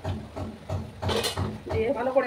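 Potato and tomato mixture being stirred in a pan, a spoon scraping and knocking against the metal in steady repeated strokes, close and moderately loud with a soft background sizzle.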